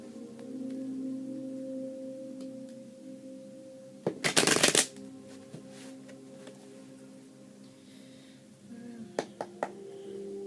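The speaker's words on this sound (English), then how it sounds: "Alright, one more shuffle." Tarot cards are riffled in one quick, loud burst of crisp fluttering, with softer shuffling taps and handling before and after it against a steady low background hum.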